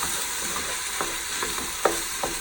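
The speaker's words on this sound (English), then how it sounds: "our white corn. Give it a little stir." White corn chili with kidney beans gets a stir in a pot, a steady low sizzle and hiss under several soft scraping clicks of a spoon, with one sharper knock partway through.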